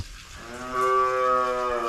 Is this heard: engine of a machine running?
no